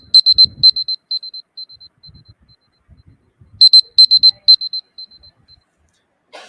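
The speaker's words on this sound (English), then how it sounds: "you'll hear a buzzer, which will sound something like this." Presentation time-up buzzer, a high electronic alarm pulsing in rapid repeated beeps that fade, then a second burst of the same beeping pattern, loud and close with faint background noise between.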